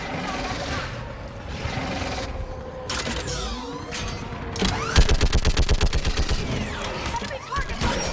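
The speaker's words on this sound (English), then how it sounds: "Get on that gun up there and do some damage!" A mounted gun firing during a battle in the video game Mass Effect, with a rapid burst of evenly spaced heavy shots over rumbling background combat and mechanical creaks.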